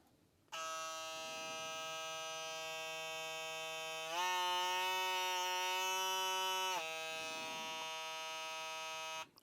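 A Stylecraft Instinct hair trimmer motor runs close up with a steady, high-pitched electric whine, rising in pitch for a few seconds mid-run before settling back, then switching off.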